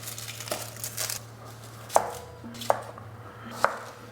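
A knife chops a carrot and an onion on a board for soup, with a few soft rustling cuts followed by three crisp, evenly spaced knocks, close and quiet.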